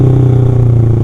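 A motorcycle fitted with an aftermarket Marpol exhaust idles and revs close by, a loud, steady, throaty exhaust drone with a rhythmic pulsing beat and no voices.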